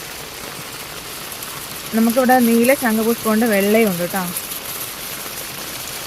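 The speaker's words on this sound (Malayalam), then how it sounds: "നല്ല മഴയാണ്" Heavy rain pours down in a dense, continuous hiss around a garden of flowering creepers, with someone talking for a few seconds partway through.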